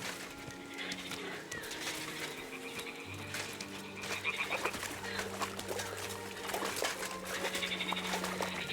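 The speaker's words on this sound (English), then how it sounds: "Ah, the toads are croaking here." Toads croaking in the game Kingdom Come Deliverance 2, a chorus of low, repeated croaks in a wet spot, steady and moderately close, growing a little louder midway, with no talk over them.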